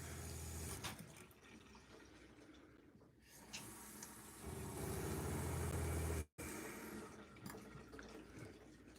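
Hot water running from a tap, a quiet, steady rush and trickle that continues for several seconds, briefly cutting out once before resuming.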